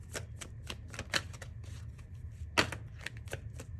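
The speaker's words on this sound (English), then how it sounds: "Strength wanted to show itself, but I'm going to keep shuffling. Shuffle, shuffle, shuffle." Tarot cards being shuffled by hand, a steady run of crisp riffling and flicking bursts with two sharper snaps, close and fairly quiet with no talking.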